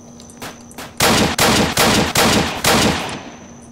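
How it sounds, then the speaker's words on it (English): Gunfire in the online game Apocalypse Rising, loud close bursts of rapid shots in about five chunks with brief gaps, following a faint earlier shot or two. "Okay, he's shooting at us."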